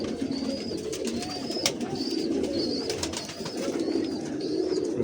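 Pigeon cooing from a prized fancy tar-wala kabootar (high-flying pigeon) in Pakistan, soft repeated coos over a steady outdoor background with other birds chirping nearby.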